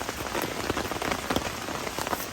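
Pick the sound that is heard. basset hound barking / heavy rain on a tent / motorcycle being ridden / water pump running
heavy rain on a tent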